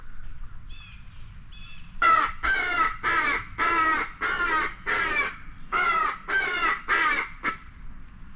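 Crows caw back toward an electronic distress call: after two faint distant calls, a loud run of about nine harsh, evenly spaced caws rings out over steady low background rumble, with no talking.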